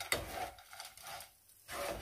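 Close scraping and rubbing of two spoons stirring a thick, sticky sugar mixture for ginger-flavoured peanut and leftover-rice gipang in a bowl, in uneven strokes with a brief pause, no voices.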